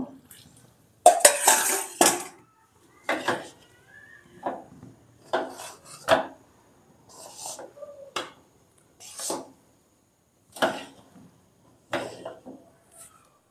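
A spoon scrapes and stirs semolina cooking in water around a metal wok in short bursts, roughly a dozen strokes with brief pauses, close and clear.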